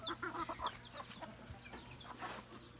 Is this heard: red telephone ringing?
no